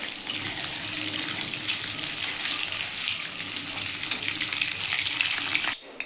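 Hilsa fish frying in a pan of hot oil gives a steady, dense sizzle that holds evenly for about six seconds, then cuts off abruptly near the end.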